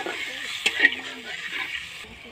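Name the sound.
stirring sour tamarind fish curry in a pan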